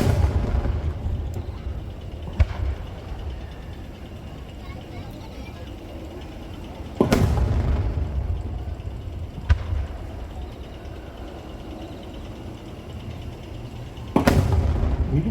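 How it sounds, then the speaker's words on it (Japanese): Fashion Ring fireworks at the Nagashima Onsen fireworks festival boom in a few loud, widely spaced bursts, each trailing into rumbling, crackling decay, with lighter pops between them and a constant crowd murmur. "リングのデザインを基調にアレンジした色分けが特徴の花火はファッションリング。"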